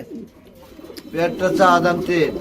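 A Jacobin pigeon coos close by, a low throaty rolling call that rises after a quiet start.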